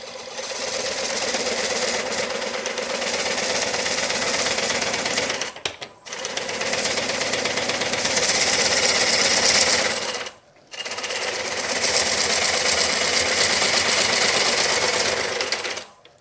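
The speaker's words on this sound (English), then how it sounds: "I typically run my coring system at about 500 RPM" A wood bowl coring system spins at about 500 RPM, giving a loud, steady mechanical whir that runs alone and cuts out briefly twice before resuming.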